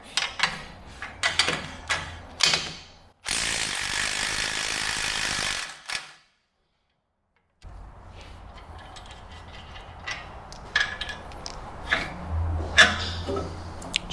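A hand ratchet working on the steering linkages at the knuckle of a Jeep Wrangler, with bursts of rapid clicking, a loud steady mechanical noise for a few seconds, a brief silence, then more clicks and clatter.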